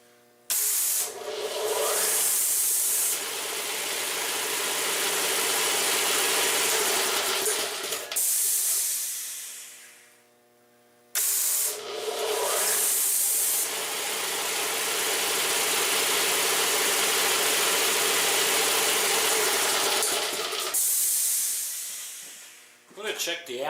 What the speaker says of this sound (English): You can actually see the pulleys and the flywheel move as well with this particular setting.